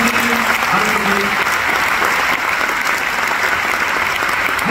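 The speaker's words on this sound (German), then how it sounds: "Und das ist dein Applaus" Loud, sustained applause from a large comedy-show audience in the Westpress Arena in Hamm, dense and continuous throughout, with a brief murmur of voices early on.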